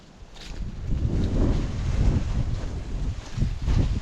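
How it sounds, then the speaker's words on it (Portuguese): Wind buffets the microphone outdoors in a vegetable garden with peppers, sunflowers, beans and corn, rising into a steady rumbling roar with gusty swells and no talk. "hoje ainda está bastante vento"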